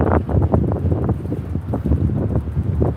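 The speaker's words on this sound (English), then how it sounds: "it is windy" Steady gusting wind from incoming monsoon rains buffets the microphone in Las Vegas, a loud low rumble with rustling bursts throughout and no talking.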